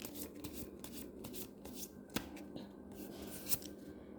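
Tarot cards rustle and slide softly as one card is drawn from the deck during a reading, giving quiet papery shuffling with a couple of sharper flicks, close by and without talking.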